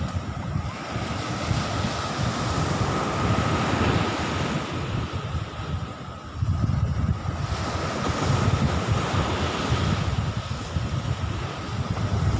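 Ocean waves washing steadily onto Nong Bua beach in Thailand, a continuous loud roar of surf with gusts of wind buffeting the microphone, swelling again near the middle.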